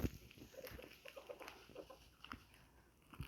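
Chickens cluck on a rural Brazilian farm near a house and wood stove, with short scattered clucks and chirps at a moderate distance against light outdoor background noise.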